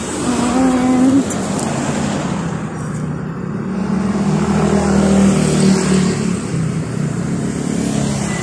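Traffic streams past on a busy road near a Belgian Malinois out on a walk, a continuous roar of cars swelling and fading as vehicles pass close by, with no voices over it.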